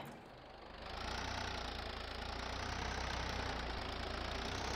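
Tractor engine in Farming Simulator 22, an Indian mod with Swaraj 744 and Ford 3600 models, starts quieter and then settles into a loud, steady idling rumble with a constant low throb, no talk over it.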